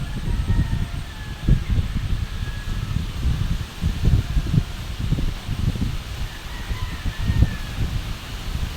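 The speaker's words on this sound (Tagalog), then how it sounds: "Opo, kalakas ng hangin." Strong gusting wind buffets the scene and rustles leaves in uneven surges, with faint bird calls in the distance.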